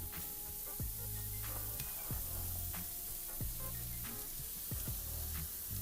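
Four zucchinis tipped into a pan of lightly toasting garlic set off a steady, close sizzle and hiss of frying, with a few sharp clinks and knocks from the pan and utensil along the way.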